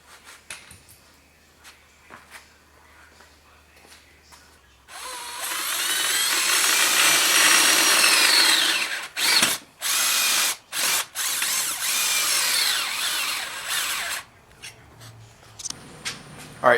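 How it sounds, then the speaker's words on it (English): Power drill boring holes for a fence, a loud steady whine running about four seconds, then several short stop-start bursts with brief quiet gaps between them. "we got all the holes drilled now for our fence"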